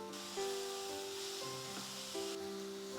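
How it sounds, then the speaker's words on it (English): Bread roll filling stir-fried in a pan sizzles steadily and close by, with soft scraping and stirring through it and a few sharper bumps along the way. "And now continue stir frying this until it's soft and mushy."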